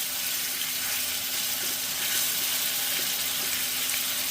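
Oxtail meat fries in a pot for curry, giving a continuous, even sizzling hiss with faint occasional stirring, steady and close with no voices.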